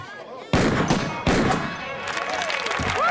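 Gunshots fired with real bullets in a comedy film scene, two sharp loud bangs about a second apart, followed by ringing, echoing clatter and faint whistling sounds.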